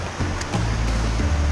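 Dodderwick Force, a waterfall on a stream near Haweswater, heard up close as a continuous, full rush of falling and running water with a steady low roar.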